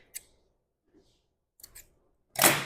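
Scissors snip through raffia cord: a single crisp snip, a faint click, then two quick cuts close together, followed by a louder burst of rustling handling noise.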